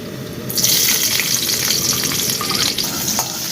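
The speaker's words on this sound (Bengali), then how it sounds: "তিনটে কাঁচা লঙ্কা আমি কুচিয়ে দিয়েছি আর পাঁচটা রসুন কুচিয়ে দিয়েছি তেলের মধ্যে দিয়ে দেবো" Three chopped green chillies and five chopped garlic cloves drop into hot oil while making chicken pakora, bursting into a loud, dense, continuous sizzle after a brief quiet start, with no talking.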